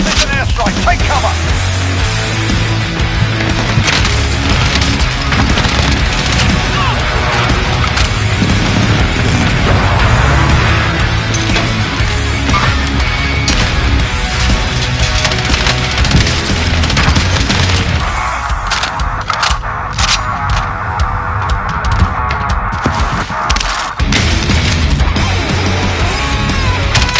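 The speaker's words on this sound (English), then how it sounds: "Keep up with this airstrike. Take cover." Airstrike explosions and gunfire erupt in a video game as a loud, continuous barrage of rapid shots and booming blasts, briefly thinning to a quieter stretch before resuming, with a voice occasionally talking over it.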